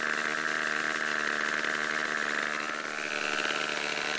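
A small model airplane engine runs on a profile plane before its maiden takeoff, a steady buzzing drone held at a constant pitch with a slight dip near the end, fairly close, with no talking.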